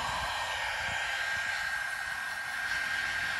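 A heat gun blows steadily while old finish is stripped from wooden window profiles, giving a constant close airy hiss and whoosh with no breaks.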